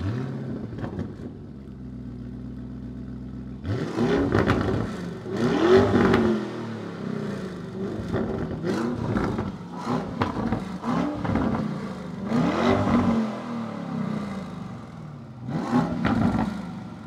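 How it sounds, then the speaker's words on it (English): A 2024 Lamborghini Urus Performante with Akrapovic exhaust starts in Corsa mode and revs repeatedly, deep exhaust roaring in bursts with pauses between, close and loud, with no talking. "We'll be starting up the car in Corsa mode and give you a few revs of the Akrapovic exhaust"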